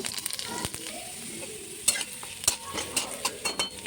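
Red lentils frying in oil in a wok, a constant close sizzle with frequent scraping stir strokes and light clinks, heard alone without speech.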